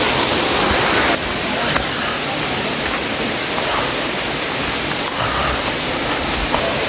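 A small waterfall at a forest tourist spot, pouring as a loud, steady broadband rush that fills the scene without a break, heard up close.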